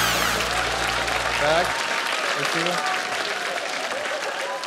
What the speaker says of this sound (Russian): Бурными аплодисментами ура!